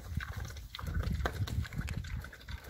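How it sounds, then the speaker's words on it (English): A large sow feeding up close on a farm: wet chomping, snuffling and grunting in an uneven rhythm, with soft clattering and shuffling around it. "she's eating like a pig"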